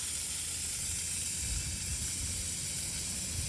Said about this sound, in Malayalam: ഞാൻ മേളത്തെ മറ്റേ കുക്കറിന്റെ വിസിലങ്ങ് ഊരിക്കോട്ടെ